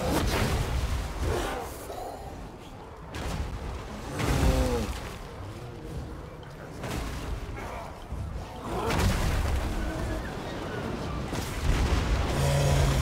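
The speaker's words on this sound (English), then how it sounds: "Hell Cannon getting some shots in against those Black Orcs" Repeated booming Hell Cannon shots against Black Orcs in a Warhammer multiplayer battle, heavy thuds with whooshes, mixed with dense combat noise and some talk at moments.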